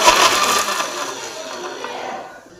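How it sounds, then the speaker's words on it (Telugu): An electric mixer grinder whirs loudly as it blends soaked tamarind and spices for a fish pulusu, a dense grinding roar that slowly eases off over a couple of seconds. "అవన్నిటికి వేసుకొని ఇలా మిక్సీ కలుపుకొని కొంచెం"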